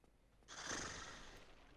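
A person's voice imitates a horse whinny, starting softly and swelling into a loud, breathy, drawn-out neigh that holds for over a second, with no other talk.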